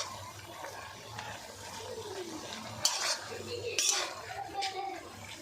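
A spoon stirs small fish and pipul greens curry in a pan, soft scraping and clinks over a low sizzle, close and fairly quiet.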